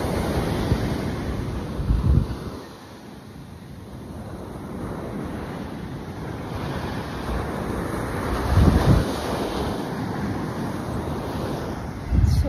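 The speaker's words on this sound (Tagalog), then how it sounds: "Ganda ng alon, oh." Ocean waves rolling onto the beach at Zambales, a constant roar with swells building and breaking around every few seconds, mixed with gusty wind buffeting the microphone.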